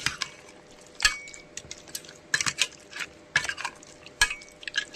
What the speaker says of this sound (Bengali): আর ভালো করে আমি মাখিয়ে নেব